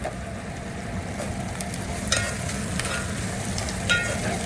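Onions, tomato, mint and coriander frying in a pan for bambino (semiya), giving a dense, even sizzle close up with a few faint stirring scrapes, no talking.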